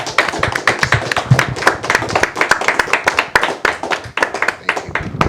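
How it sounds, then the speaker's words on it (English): A small group claps at a special effects artist meet and greet, sharp individual hand claps arriving in quick irregular bursts, close and fairly loud rather than a dense crowd roar. "I think we need to do an applause for Mr. Steve Neill, y'all."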